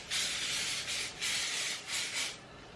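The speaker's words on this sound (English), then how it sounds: "I like to spray hairspray on my hair" Three close, hissing bursts of hairspray sprayed onto curly hair, each about half a second long with brief gaps between, steady and bright with no voices.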